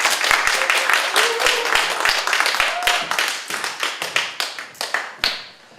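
An audience at a Korean seminar on the gig economy and network marketing claps after a lecture, with dense applause that thins into scattered, fading claps.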